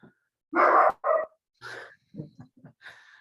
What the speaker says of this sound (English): Some puppies are also joining the yoga.